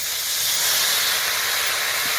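Water poured into ginger, garlic and chili paste frying in a pan sets off a loud, steady steam hiss and sizzle that holds for a couple of seconds with no voices.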